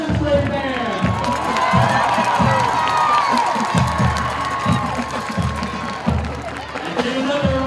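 A large crowd at a school football game cheers and applauds for the 8th grade band, with loud clapping, whoops and children shouting rising and falling over several seconds.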